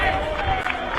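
A football crowd at a country league match between East Point and Bacchus Marsh roars and cheers after a goal, a steady, broad wash of noise with no clear breaks.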